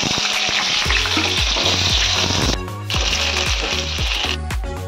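Vegetables frying in hot mustard oil, a loud steady sizzle with crackling and stirring scrapes close up.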